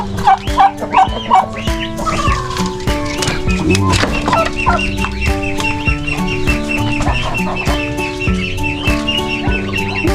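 Turkeys gobble repeatedly in rapid, warbling bursts, loud and close, with other fowl calling throughout a busy farmyard.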